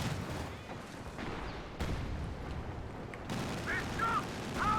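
Tank main guns fire in Company of Heroes 2 against a flame panzer in Lienne Forest, giving scattered booms and impacts under a busy battle din, with faint voices and short whistling tones near the end.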